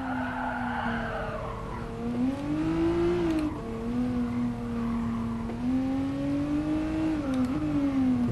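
Toyota FT-1 race car from 2014 in Gran Turismo Sport, engine droning steadily with pitch rising and falling through gear changes, plus tire squeal as it drifts, loud and continuous with no talk.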